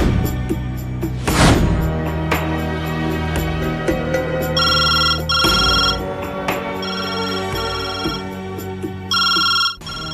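A phone ringtone chirps in repeated electronic bursts in the middle of an indoor scene from a Telugu TV serial, mixed with a thump, movement and background music.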